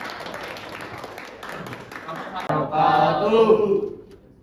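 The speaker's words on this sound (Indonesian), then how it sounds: "Berikan aplaus ya." An audience breaks into applause, a dense burst of clapping that swells loudly after a quieter stretch of murmuring voices and crowd noise.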